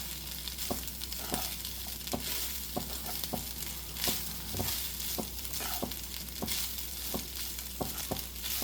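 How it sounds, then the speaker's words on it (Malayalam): Okra masala rice being mixed in a hot pan, a steady sizzle of frying under regular scraping strokes of a spoon roughly every half second, close and alone without talk. "ഇതിലേക്ക് ആവശ്യത്തിനുള്ള ഉപ്പിട്ട് കൊടുക്കാം അതിനുശേഷം നല്ലപോലെ ഒന്ന് മിക്സ് ചെയ്യാം"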